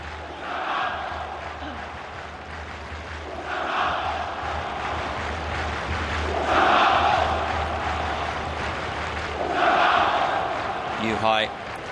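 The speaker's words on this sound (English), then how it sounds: "The cheering is quite desultory." Stadium crowd at an AFC Champions League group-stage football match between Shanghai SIPG and Kawasaki Frontale, with sustained background noise that rises in loose, chant-like waves every few seconds but never reaches a full roar.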